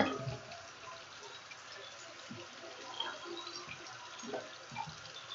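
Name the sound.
container being filled with 32 ounces of tap water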